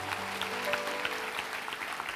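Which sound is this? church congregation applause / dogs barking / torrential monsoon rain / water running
church congregation applause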